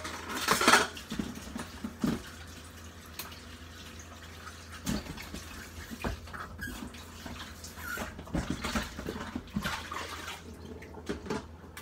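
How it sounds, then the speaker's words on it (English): A scraped-out bitter melon is rinsed at a sink, with running water, soft splashes and occasional clinks of dishes, fairly quiet and close. "Now I'm washing it."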